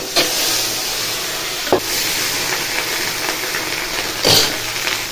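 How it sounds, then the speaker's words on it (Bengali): Rohu fish roe fries in hot oil, a constant close hissing sizzle throughout with a few sharper crackles and spatters. "এই যে তেল দিয়ে দিলাম, গরম হয়ে গেছে, মাছের ডিমটা দিয়ে দিচ্ছি।"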